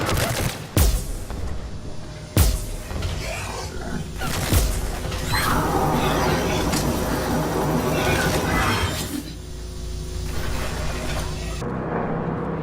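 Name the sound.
Claymore shotgun firing in video game Mass Effect 3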